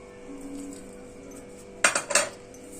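Namkeen snacks with masala tossed in a pan, a quiet lull followed by a short, close cluster of rattling clatters near the end, with no talk.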